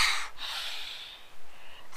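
Heavy, sustained breathing during a power yoga and Pilates workout: a sharp, snorting inhale through the nose, then a long, airy exhale, close and clear.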